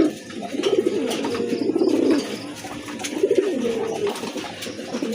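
A pair of pouter pigeons coo close by in soft, rolling, throaty phrases, two bursts with a short pause between them, over faint background noise.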